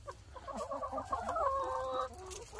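A chicken named Penny clucks in a run of close, rising and falling calls that swell into a sustained squawking stretch before trailing off, with no talk over it.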